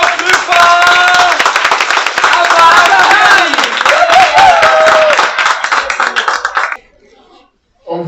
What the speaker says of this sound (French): J'applaudis encore plus fort.